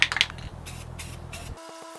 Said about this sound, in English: Always shake up your spray paint.